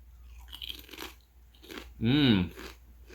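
A Parmesan garlic kettle chip is bitten with one loud, sharp crunch close to the mic, followed by quieter chewing, with soft sounds from the eater before the bite.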